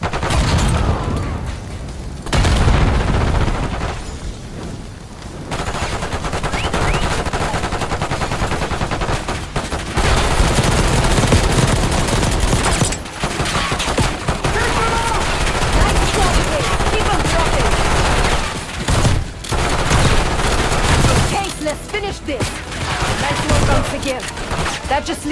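Gunfire from a firefight in the Call of Duty: Black Ops 6 single-player campaign, loud and dense, with bursts of rapid shots and heavy impacts running nearly throughout, broken by a few brief lulls.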